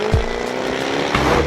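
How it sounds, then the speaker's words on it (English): A Jaguar F-Type V8 S gives off a deep, continuous engine drone, close and fairly loud, holding a steady rumbling tone with slight swells through the short stretch. "The V8 and that wonderful, ridiculous noise it makes"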